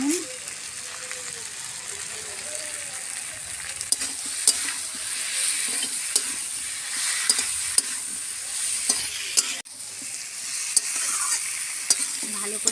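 Spices with turmeric powder, Kashmiri chilli powder and salt fry in a pan while being stirred, giving a steady sizzle with repeated scraping strokes, close up, and a brief voice at the start.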